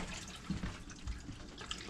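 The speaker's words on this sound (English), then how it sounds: "We'll just melt that with our hot water here, just to make sure that we're happy we've got hot water." Hot water runs from a tap over ice in the kitchen sink of a 2019 Elddis 840 Avante caravan, a soft continuous splashing and trickling with faint drips, quiet and close.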